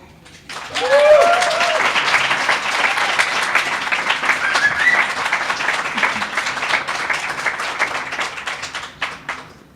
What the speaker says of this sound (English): I love the Narrow Chimney custom of clapping after every poem or every story